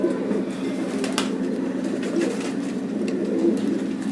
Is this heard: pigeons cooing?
yes